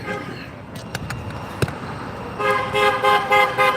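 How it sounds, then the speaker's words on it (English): Car horns honk at a street protest, a few short beeps early, then a louder, longer burst of sustained honking from nearby vehicles over street noise. "Honking, honking."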